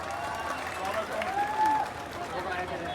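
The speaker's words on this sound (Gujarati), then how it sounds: "આ ડીજે ના સેટઅપ માટે તાળી તો પાડો લા. એટલે આપણી તાળીનો અવાજ વધારે હોવો જોઈએ." Crowd clapping in praise of the DJ setup at a Ganesh procession in Surat, a broad steady wash of applause with voices mixed in throughout.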